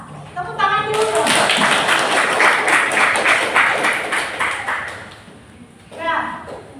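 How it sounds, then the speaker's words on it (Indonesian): A classroom of children claps together for a teacher, a loud dense burst of rhythmic hand clapping that fades toward the end, with voices mixed in. "Tepuk tangan dulu dong"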